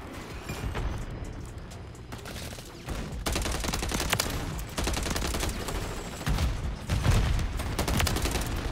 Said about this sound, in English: he's pushing you with a fire shotgun